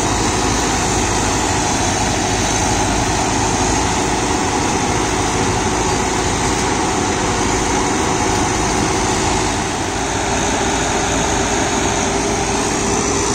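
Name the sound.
New Holland 9010 Excel tractor running GS Rhinocer rotavator mulching banana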